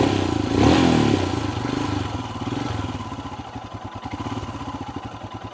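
A Royal Enfield Himalayan 410 motorcycle engine cranks and fires up, then settles into a steady, lumpy idle with a rapid rhythmic pulse, close by.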